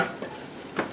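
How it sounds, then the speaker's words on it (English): Fried onions, garlic and rosemary scooped out of a frittata pan, two soft scraping stirs of a utensil against the pan over a faint lingering sizzle. "now I got to take all the onions and garlic and rosemary out."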